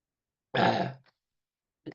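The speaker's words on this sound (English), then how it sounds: "I've had this nagging cough for a couple of months." One short, rough cough close up from a lingering, months-long cough, followed by a faint brief rasp; otherwise silence.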